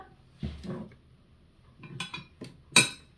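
A spoon clatters and scrapes against a saucepan while adding cornstarch, in a few short, separate bursts, close by, with quiet gaps between them.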